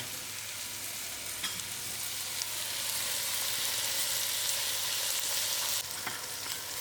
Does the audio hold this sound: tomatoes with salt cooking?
yes